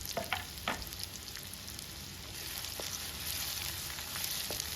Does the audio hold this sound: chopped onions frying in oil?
yes